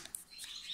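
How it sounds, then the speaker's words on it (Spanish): Small birds in an aviary chirp in quick, bright bursts, close and fairly clear over a soft background hiss. "Estos pajaricos están por aquí también."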